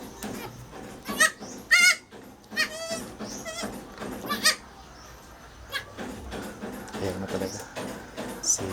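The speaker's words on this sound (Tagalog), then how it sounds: "Sa maingay kong kambing." A noisy pet goat bleats in several loud, wavering calls close by, separated by quieter stretches with faint background movement.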